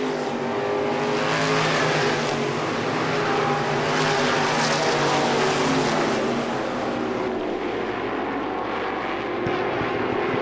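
Race cars roar around the track at Lee USA Speedway during an Oktoberfest event, a loud continuous engine drone that swells and fades as the cars pass.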